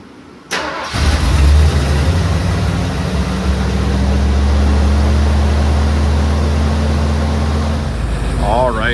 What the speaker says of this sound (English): we got a real smooth idle